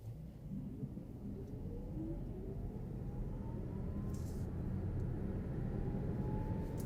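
A 2024 Volvo C40 Recharge dual-motor electric car accelerating hard from 0 to 60 mph, heard as a steady rising electric whine over heavy tyre and road rumble that builds in pitch for several seconds.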